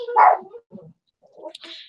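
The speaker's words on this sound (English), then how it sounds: "Hey, yappy dogs. Put a sock in it." Small yappy dogs bark indoors: one sharp, loud bark followed by a few softer yips and whimpers, fairly close, with short quiet gaps between them.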